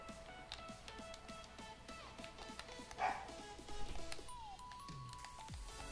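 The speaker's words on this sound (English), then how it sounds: "my dogs are barking in the background" Dogs bark at home in the background behind a game of FIFA 21 Ultimate Team, with faint scattered yips and a couple of louder barks mixed into game sounds and ambient clatter.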